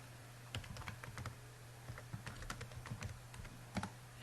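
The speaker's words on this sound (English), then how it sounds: "I don't need to type out the full name" Fingers type steadily on a computer keyboard during a library cataloging search, producing quick, faint key clicks in short bursts against a quiet hum.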